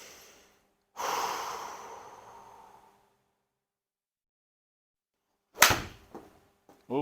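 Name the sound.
deep breathing during golf practice swings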